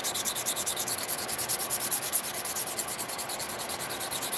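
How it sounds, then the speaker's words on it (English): Coarse 80 grit nail file rasping over acrylic nails in quick, steady back-and-forth strokes, a close, rhythmic scratchy rubbing that continues without pause and with no talking. "I am using the 80/80 grit for these."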